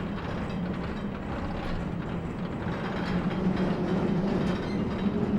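A tram ride in the video game Riven: a steady rumbling, clattering roll of wheels on track, continuous and fairly loud throughout, with no voices.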